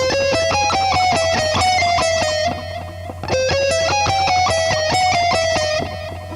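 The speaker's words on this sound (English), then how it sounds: "going on a chromatic descent, kind of a bluesy descent" An electric guitar plays a bluesy descending run of picked notes, stepping down chromatically, then repeats the phrase, ringing steadily with no voices.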